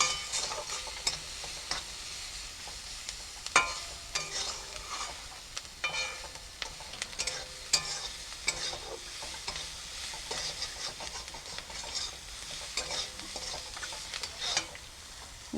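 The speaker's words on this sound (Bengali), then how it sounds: "দেখুন, পেঁয়াজটা কিন্তু হালকা ভাজা হয়ে গেছে।" Onions frying lightly in a pan while being stirred, a quiet, steady sizzle broken by frequent scraping and clinking strokes of the spoon.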